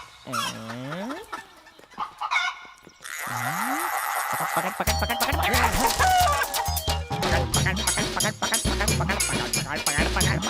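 Hens cluck and a rooster crows in a scene from a Hindi-dubbed romantic film, with loud, repeated, rhythmic fowl calls that grow busier and denser toward the end.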